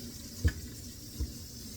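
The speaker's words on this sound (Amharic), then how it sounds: "ኦኬ ውሃው ኦን ነው።" Water runs from a kitchen sink tap after a garbage disposal replacement, a steady soft hiss throughout, broken by two dull low thumps from the sink.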